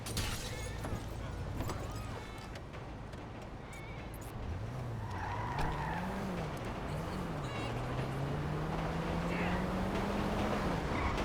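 A car driven in Grand Theft Auto V holds a continuous engine drone that rises and falls with gear changes and acceleration, under steady game noise, with someone talking over it.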